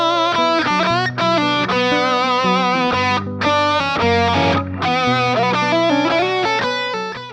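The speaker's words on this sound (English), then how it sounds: "Or this luscious lead sound." A luscious lead electric guitar plays a dense, sustained melodic line with light distortion and rich harmonics, staying loud and continuous over bass notes, with no one talking.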